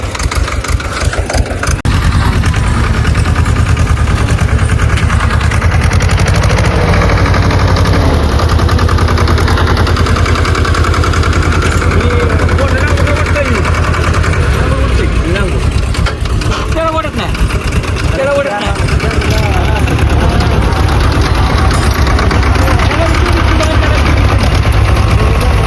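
A Sonalika tractor engine runs loud and close, a steady diesel drone with a plank attachment hitched on a farm field, its pitch rising and falling as it revs, while people talk over it.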